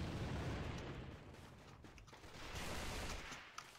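A hand grenade goes off in the AVA online shooter, a broad rumbling blast that swells, fades and builds again over a few seconds, with a small sharp click near the end.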